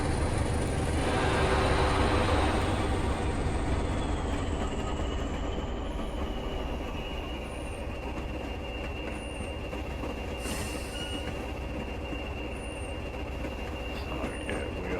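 A Class 20 locomotive hauls a train through a curving station platform in Train Simulator, a steady rumble of wheels and rail noise with occasional high squeals, continuous and fairly loud throughout.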